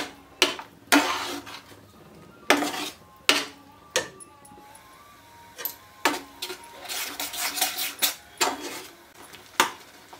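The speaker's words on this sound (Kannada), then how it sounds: "ಚೆನ್ನಾಗಿ ಮಿಕ್ಸ್ ಮಾಡ್ಕೊಳ್ಳೋಣ. ಇವಾಗ ಈ ಮಸಾಲೆ, ಈ ಟೊಮೆಟೊ ಪ್ಯೂರಿ ಎಲ್ಲ ಹೊಂದ್ಕೋಬೇಕು." Masala and tomato puree stirred in a pan while cooking mushroom gravy, a spoon scraping and knocking against the metal in repeated sharp clatters and scrapes, fairly close, with no talking.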